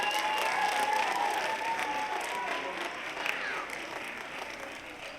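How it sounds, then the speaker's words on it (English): An audience at a private elementary school's Christmas holiday program in a wealthy Chicago suburb claps warmly, a fairly soft wash of many hands that swells early and then gradually tapers off. "You can give applause right now."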